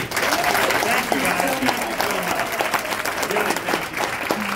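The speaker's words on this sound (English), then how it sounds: "let's give them a big round of applause" An audience at a Paris press conference for Guardians of the Galaxy Vol. 3 applauds, steady clapping filling the room for a few seconds with cheers mixed in.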